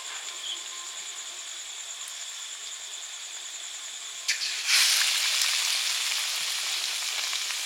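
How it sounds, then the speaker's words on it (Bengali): Small round potato chops dropped into hot oil, a quiet background hum giving way to a sudden loud, steady sizzling hiss that carries on to the end. "ভাজতে দারুণ লাগছে।"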